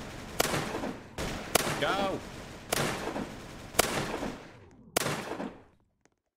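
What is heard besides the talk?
gunfire from a gun in the video game Roblox Zombie Rush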